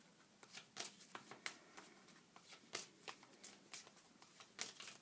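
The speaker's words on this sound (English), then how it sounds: "The last deck. Let's shuffle." Repeated quick riffles of a card deck being shuffled, crisp bursts in an uneven rhythm, close and fairly quiet, with no talking.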